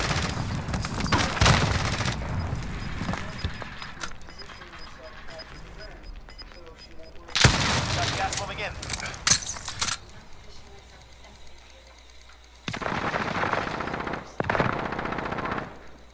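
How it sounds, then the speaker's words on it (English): Gunfire in Call of Duty: Modern Warfare: loud bursts of automatic weapon fire in several separate volleys, with quieter stretches of game ambience between them. "Teams are shooting around here."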